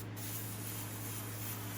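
An airbrush sprays green paint onto a flocked greenhead mallard drake decoy, making a steady, soft, close hiss that runs unbroken from start to finish.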